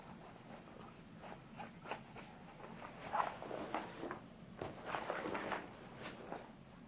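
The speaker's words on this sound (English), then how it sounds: "First thing we'll do is open the hull bag." A zipper being pulled open on the hull bag of a Zodiac Bombard Typhoon 360 inflatable boat, a soft scratchy run of short rasps mixed with fabric rustle, fairly quiet and close.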